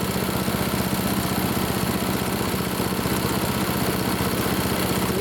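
A vintage Honda Harmony lawn mower engine idles after a tune-up, producing a loud, steady, close mechanical drone with an even pulsing rhythm and no talking.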